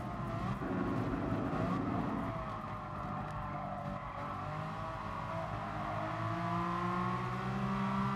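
A race car in GT Sport drones steadily through its gears, the engine note climbing and dropping with each shift over a continuous layer of tire and road noise, loud and close throughout.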